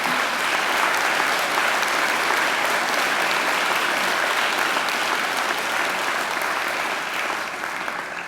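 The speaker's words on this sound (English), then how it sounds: "They deserve your applause as well" Loud, sustained applause from a large audience at a university graduation ceremony, a dense even roar of clapping that holds steady throughout and eases off slightly at the very end.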